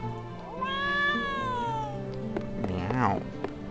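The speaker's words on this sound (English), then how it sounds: "And 2 cats." Cats meow in the Trials of Mana video game (2020 remake): a long, rising-and-falling meow, then a shorter second call, both close and clear over soft game background music.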